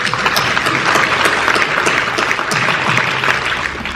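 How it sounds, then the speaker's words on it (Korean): Congregation at a New York Korean church council inauguration worship service bursts into loud, full applause, a thick continuous crackle of many hands with no talking over it for four seconds. "박수 한번 보내주세요"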